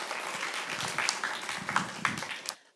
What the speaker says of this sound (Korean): 박수 치고 마치겠습니다